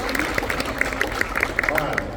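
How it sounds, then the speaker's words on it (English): Scattered clapping from an audience at a freshman academy wind ensemble spring concert, a few distinct claps over a busy room murmur, with people talking through it. "Give her a round of applause."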